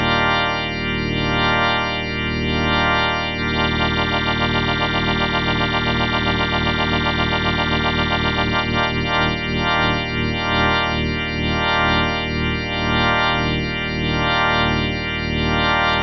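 A Yamaha CK61 stage keyboard's organ sound holds a sustained chord through a rotary speaker effect, the swirl of highs and lows shifting speed and pulsing steadily, loud and continuous without speech.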